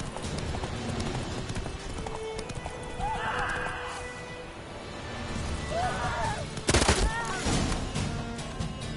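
Horse hooves from The Witcher 3 video game clop steadily under a galloping rhythm, with whinnies and neighs rising midway and a sharp burst near the end, set against a low game ambience and some voices.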